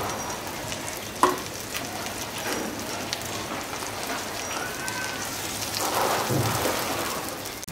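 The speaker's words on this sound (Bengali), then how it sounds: "এগুলাকে আমি একটু ভেজে নিব" Chopped onions fry in mustard oil in a wok, giving a steady, dense sizzle close up, with a few faint stirring scrapes and no talk.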